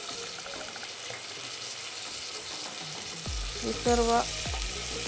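Spiced moong dal khichdi sizzles in a pan as it is stirred, with a steady frying hiss, scraping and clinks near the end, and a brief spoken voice.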